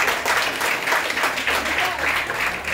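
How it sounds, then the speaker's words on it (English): A crowd at a college scholarship ceremony claps for a student, a dense and fairly loud round of applause with a slightly pulsing rhythm that continues without a pause. "Big clap for her."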